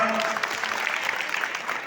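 A crowd at a government document-distribution gathering in Shirur Kasar applauds for Thakre tai, a dense, loud wash of clapping that holds steady from start to finish with no speech on top.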